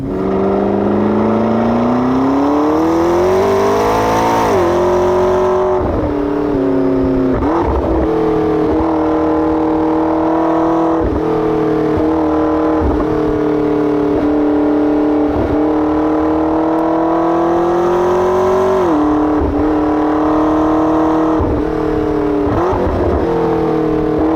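A McLaren 12C accelerating hard, the engine note climbing through the revs with brief dips at gear changes, loud and close inside the car, sustained for over twenty seconds with no talk.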